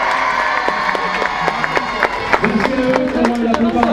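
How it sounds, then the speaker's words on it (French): At a live concert in Tarbes, a crowd claps and cheers for the festival committee and tourism office, with excited shouts and voices rising over the applause, which grows louder and busier toward the end. "je vais demander s'il vous plaît un tonnerre d'applaudissements pour le comité des fêtes et l'office de tourisme de"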